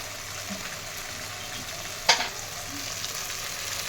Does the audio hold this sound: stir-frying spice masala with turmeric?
yes